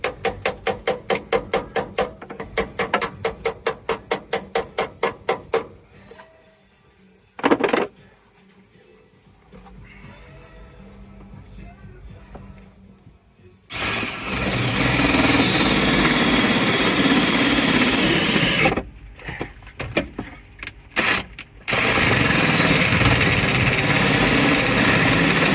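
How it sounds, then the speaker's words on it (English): A ratchet clicks rapidly in quick bursts while heat shield bolts come off, followed by a single sharp clank. Later, long stretches of loud, steady broadband whirring fill the rest of the recording. "We are removing the heat shield bolts."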